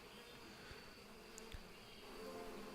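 Bees buzzing around an apiary in a video game, a faint, steady insect drone with a few brief clicks over a low background hum.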